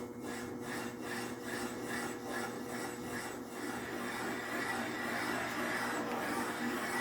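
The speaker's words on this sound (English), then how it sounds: "Now we're cutting our profile into the hardened seat." A valve seat cutter turned by hand cuts a profile into a hardened engine valve seat, giving a steady, close scraping rasp with faint rhythmic strokes over a constant background hum, no speech.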